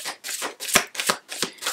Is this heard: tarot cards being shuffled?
yes